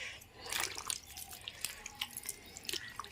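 Water drips and trickles from squeezed salted raw mango pieces, a series of small irregular splashes and droplets at close range, fairly quiet, with no talking.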